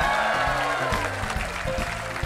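Crowd clapping and cheering at an outdoor sing-along in Gränna, 2011, a loud continuous wash of applause throughout the short stretch.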